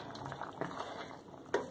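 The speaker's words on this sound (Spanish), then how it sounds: "Vamos a destapar nuestras calabacitas. Ya están aquí hirviendo." Zucchini bubbling in a pot of boiling water, a soft continuous simmer with small pops and a brief clink near the end, heard quietly up close.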